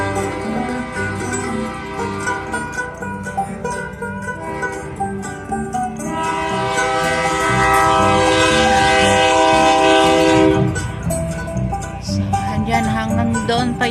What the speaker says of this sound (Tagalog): And there's some train too.